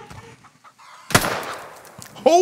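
Chickens clucking in a first-person shooter video game, with a sharp burst near the middle and a rising cluck at the end over faint game ambience.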